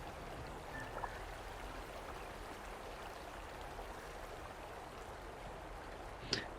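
Water flows steadily in the video game Silent Hill f, a soft, continuous broadband trickle and rush running quietly throughout, with a faint brief splash or click near the end.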